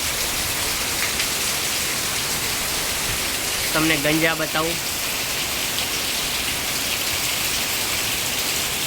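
A steady, heavy downpour drums over flooded farm fields in a constant loud wash, with someone briefly speaking near the middle before the rain carries on alone.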